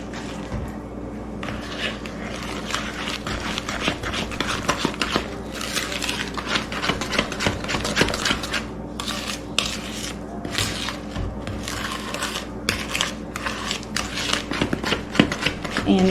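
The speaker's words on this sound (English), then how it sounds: "And give that a stir." A spoon scrapes and clicks against a mixing bowl as cowboy cookie batter is stirred after vanilla goes in, a continuous close run of rapid tapping and scraping with a voice faintly underneath.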